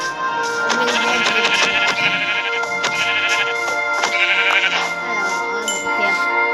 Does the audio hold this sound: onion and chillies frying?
no